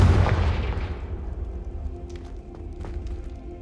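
A Confringo blasting spell goes off in Hogwarts Legacy: one loud, deep boom at the start, decaying into a rumbling tail with faint scattered crackles, heard alone.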